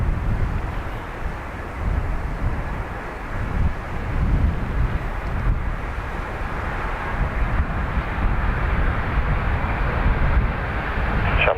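A NetJets business jet approaches Dublin Airport, heard as a steady, moderately loud low engine roar with wind buffeting the microphone, continuous throughout with no voices.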